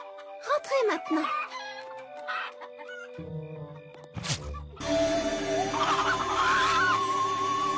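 Cartoon hens cluck and squawk nearby in short bursts, with a person talking among them and a rooster-like call rising later.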